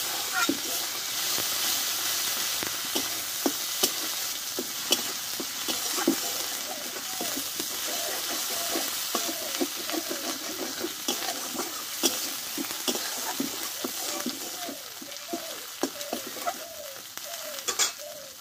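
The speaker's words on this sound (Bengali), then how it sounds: "আর দেবো একটু হলুদ গুঁড়ো দিয়ে মশলাটা ভালোভাবে একটু কষে নেবো আমি" A spice paste of ground green chili and cumin with turmeric fries in a pan, a steady close sizzle broken by regular stirring scrapes, with birds cooing faintly in the background.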